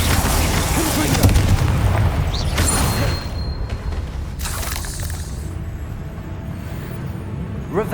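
Spell explosions go off in the video game Hogwarts Legacy, several booming blasts and crackling bursts with game sound effects layered over a dense rumbling background, loudest in the first few seconds.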